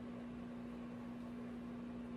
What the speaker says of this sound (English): Josh, it's the microwave noise in the background.